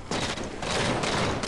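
Rapid bursts of gunfire from the video game Halo 4 fill the scene, a loud, dense and continuous volley with no pauses.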